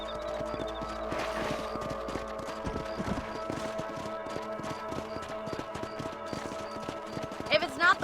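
Horse hooves clip-clop steadily in the video game Red Dead Redemption while riding across a ranch, a close rhythmic trot under music and a character's voice.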